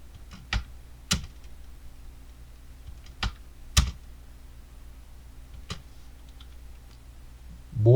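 Separate keys pressed on a computer keyboard while editing in Premiere, including the Home key and spacebar: about six distinct, close, fairly loud clacks spaced irregularly over several seconds, with no voices.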